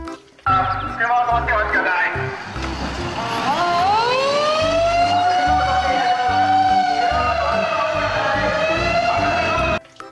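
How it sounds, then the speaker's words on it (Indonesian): Toy fire truck sounding a loud electronic siren that wails with rising and falling sweeps, running steadily for about nine seconds and then cutting off. "pemadam kebakaran."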